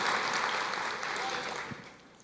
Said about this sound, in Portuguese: Glória a Deus, aplauda ao Senhor.